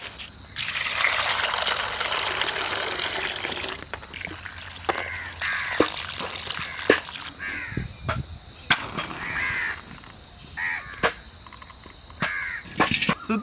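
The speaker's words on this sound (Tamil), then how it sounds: "தண்ணி ஊற்று அம்பி இதுக்குள்ள." Water poured into a cooking pot outdoors while preparing a village-style Hyderabadi green chicken: a steady gushing pour at the start, then intermittent splashes, with crows cawing loudly nearby throughout.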